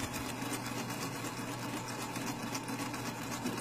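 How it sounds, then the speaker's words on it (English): Singer Featherweight sewing machine stitching fabric with a 1/4 inch piecing foot, a steady close mechanical whir running continuously without pause. "Keep making sure your fabric is within that little guide, and commence stitching."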